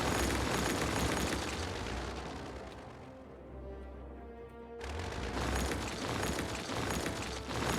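A loud, broad explosion roars in Cities: Skylines as a demolition goes off, a heavy blast that fades into a lower rumble before a second burst of debris noise swells back up; no one speaks.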